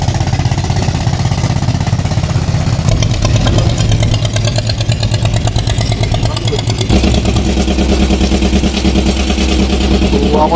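A tourist boat's engine chugs loudly and steadily as the vessel pulls away in the Sundarbans, a dense mechanical rattle that shifts pitch partway through, with voices faint beneath it.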